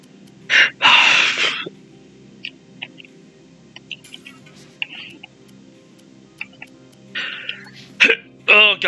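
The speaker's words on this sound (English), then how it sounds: "Oh god, there's the hiccups." Several hiccups break out at irregular intervals, a couple loud and close with others fainter, amid quiet background sounds and brief speech.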